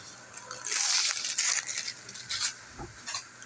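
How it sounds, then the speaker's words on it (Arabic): Sugar stirred in a metal pot with a spoon, producing scraping, gritty swishes and light clinks in uneven strokes, fairly close, with faint background noise. "ونقلب بقى السكر بتاعي كده"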